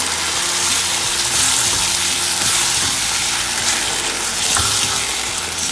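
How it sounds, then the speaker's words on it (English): A can of black beans seasoned with salt and black pepper is stirred and cooked in a hot pan for loaded nachos. A loud, continuous sizzle and bubbling hiss carries through with spoon stirring and no talking. "stir it well and cook it for about 2 minutes"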